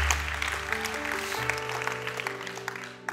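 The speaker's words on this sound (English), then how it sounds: "worth clapping for sure" A church congregation claps in scattered fashion, fairly soft and somewhat distant, over sustained organ or keyboard chords that shift partway through.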